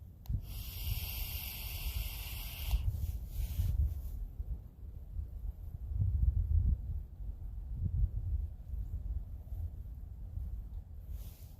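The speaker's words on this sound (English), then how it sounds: "If I was vaping, it'd sound like this." A breathy, airy hiss of exhaled vapor for a few seconds, followed by low rumbling handling noise.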